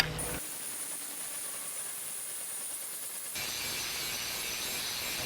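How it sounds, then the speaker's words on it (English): A 1/4-inch grinder disc bevels the edge of a steel pipe flange with a steady, high-pitched abrasive whine. The sound grows noticeably louder and harsher partway through as the disc bites harder into the metal. "So now I'm going to go back with the 1/4-inch disc so we can grind our bevel down."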